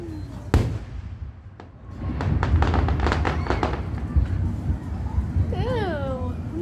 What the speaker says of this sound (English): I guess it's a bit of firework ASMR now.